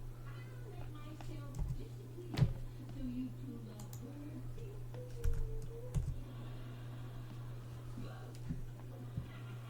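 Quiet, close keystrokes on a computer keyboard as terminal commands are typed on an Ubuntu Studio system, irregular clicks over a steady low hum, with a person talking softly at times.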